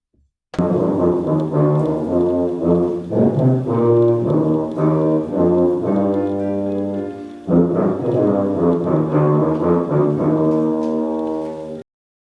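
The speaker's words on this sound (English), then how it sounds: "get you a little bit of a clip so you can hear what a tuba sounds like" A low brass tuba plays a slow melodic phrase of sustained, rich notes, loud and alone, with a brief break midway.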